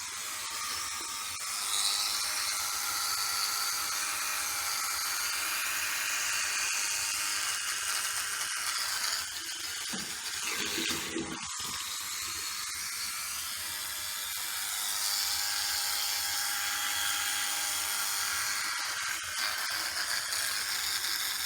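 Electric hair clippers buzz steadily while trimming hair on a head, a close, continuous whirring drone with brief rattles and pitch dips as the blades move through hair.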